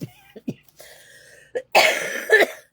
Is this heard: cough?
yes